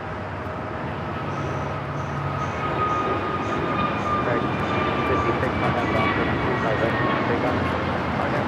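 Jet engine roar of an aging American Airlines A321 at Los Angeles LAX, a steady loud broadband rumble with a faint whine, building slightly in intensity over several seconds.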